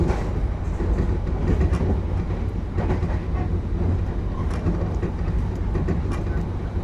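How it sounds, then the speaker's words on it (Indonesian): The Dharmawangsa passenger train runs straight through Pasir Bungur station at night, heard from on board as a loud, continuous rumble with rhythmic clickety-clack of wheels over rail joints. "Oke, melintas langsung stasiun Pasir Bungur."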